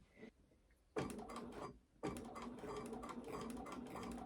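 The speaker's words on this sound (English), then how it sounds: "now we're going to go along here and we're going to sew this" A sewing machine stitches along fabric in two close bursts of steady, rapid mechanical whirring, separated by a brief pause, with no talking.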